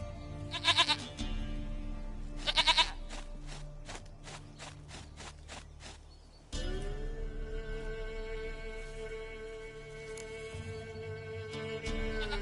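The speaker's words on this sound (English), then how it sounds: "Goat of mine, dearest, sweetest goat." A goat in The Witcher 3 video game bleats in a few sharp bursts, followed by tonal game sounds and a sustained ambient drone with faint footsteps.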